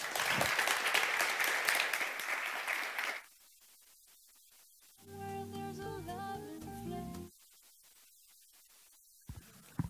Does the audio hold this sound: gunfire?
no